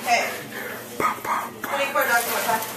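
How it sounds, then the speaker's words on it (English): A dog barks a few short times amid steady talking and other household noise, fairly close by. "Why is this dog crazy?"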